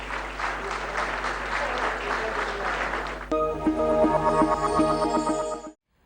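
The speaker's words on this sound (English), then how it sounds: "can we have a round of applause, please?" Sustained audience applause in a conference hall at a women's empowerment session, steady and moderately loud for about three seconds before music with a bright melody takes over and then cuts out.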